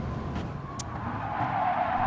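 Race car tires squeal and skid under late braking in a racing video game, a steady car engine roar running throughout with a brief sharp squeal burst near the start.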